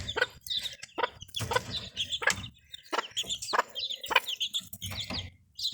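A broody Mille Fleur hen clucks among her chicks, with soft repeated clucks mixed with the chicks' high peeping and chirping, close and continuous outdoors.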